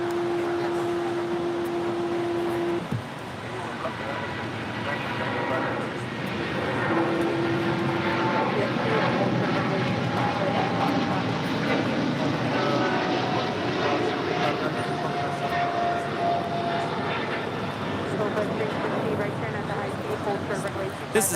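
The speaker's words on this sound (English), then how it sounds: "This is China Airlines 5224 cargo departing to Miami on a 777 freighter" A China Airlines Boeing 777 freighter, cargo flight bound for Miami, departs LAX with a sustained rumbling engine roar that swells slightly partway through and runs under ongoing conversation between several people.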